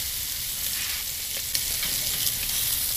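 Chicken thighs sizzle on a hot grill fitted with aluminum grill grates during a Slow n Sear review, a dense, steady hiss close by with one small knock partway through.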